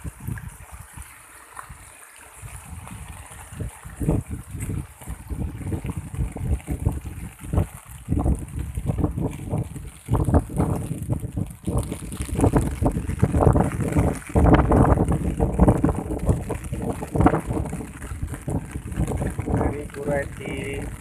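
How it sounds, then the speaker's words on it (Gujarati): Floodwater pouring across the Haripura approach road toward the Ahmedabad highway, a steady rushing wash heavy with wind buffeting on the microphone, rising louder in the middle stretch. "હરિપુરાના રોડ ઉપરથી પાણી ટપી રહ્યું છે."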